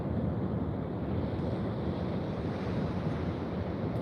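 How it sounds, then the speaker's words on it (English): Ocean waves crash on the shore with a steady broad roar, continuous and fairly loud, with wind blustering across the microphone and no voices. "we can see waves in the background there crashing"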